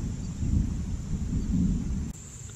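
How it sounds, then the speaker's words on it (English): Low, rolling rumble of distant thunder at Iroquois Park, faint and continuous for a couple of seconds with a steady high hiss in the background. "I hear thunder in the background."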